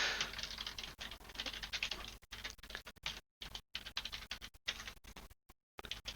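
Steady typing on a computer keyboard, quick irregular clicks and patters close up, with short pauses between bursts and no talking.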